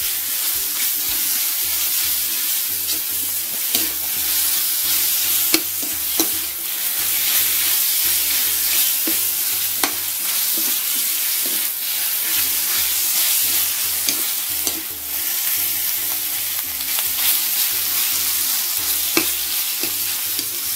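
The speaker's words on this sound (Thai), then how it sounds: "เราก็นำหมู3ชั้นที่เราเตรียมเอาไว้ครับหมู3ชั้นใส่ลงไปครับผัดรวมกับพริกเลย ผัดให้หมูสุกพอประมาณครับ" Three-layer pork belly stir-fried with chili in a pan for a pumpkin pork curry gives a steady, close sizzle, with repeated scraping and tapping of a spatula in a regular stirring rhythm throughout.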